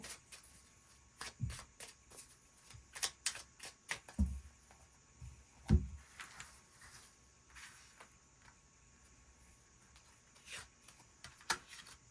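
Tarot cards being shuffled and handled for a love reading, giving soft papery riffles and taps scattered in irregular bursts across a quiet room, fairly close and faint.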